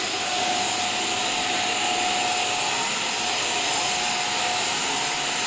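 A vacuum cleaner runs continuously with a steady whining hum and airy roar, no pauses or voices.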